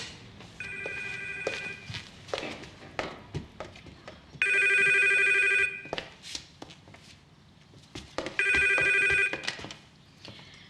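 An old-style telephone bell rings loudly indoors in several separate bursts with pauses between them, while footsteps and shuffling move about the room.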